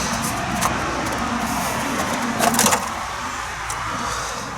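A VW T25/T3 Vanagon camper van cruises on the motorway at about 55 mph, its engine and road noise forming a steady, close cabin drone with a brief louder rattle partway through.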